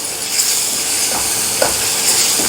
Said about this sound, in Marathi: हे थोडंसं मिक्स करून घेऊया